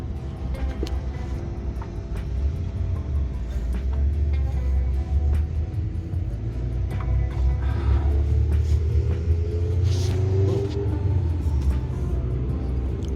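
Toyota FJ Cruiser engine idling rough, misfiring on one cylinder, a steady low uneven rumble with a faint rise in the middle and occasional small knocks heard up close.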